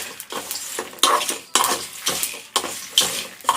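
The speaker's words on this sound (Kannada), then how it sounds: "ಅದಕ್ಕೆ ಇವಾಗ ಎಲ್ಲ ನಾನು ಫ್ರೈ ಮಾಡ್ಕೊಳ್ತಾ ಇದ್ದೀನಿ" Spices frying for a rasam, with loud rhythmic stirring scrapes and clinks of a utensil in a pan over a light sizzle, close and without speech.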